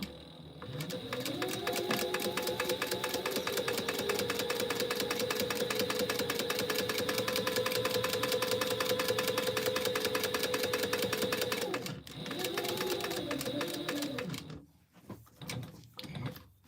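A sewing machine runs a long continuous burst while top stitching fabric, with a fast, even mechanical whir close by. It then pauses, briefly restarts and stops, followed by faint handling sounds.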